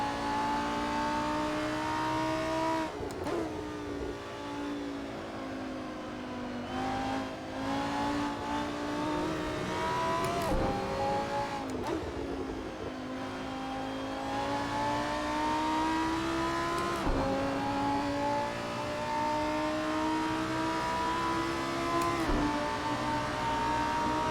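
Lamborghini Super Trofeo race car engines on the Red Bull Ring in a sim racing game, a steady high whine rising and falling through gear changes, with other cars passing and occasional tire noise.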